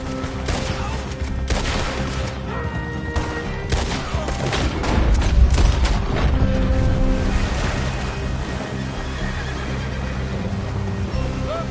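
Gunfire rattles through a shootout in Red Dead Redemption 2, a dense fusillade of overlapping shots over whinnying horses and hoofbeats, loud and continuous.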